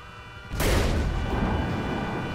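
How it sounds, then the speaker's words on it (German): A single heavy boom bursts out suddenly in Grand Theft Auto 5, followed by a sustained rumbling roar that lingers without fading. "Hat gerade irgendwer auf mich geschossen?"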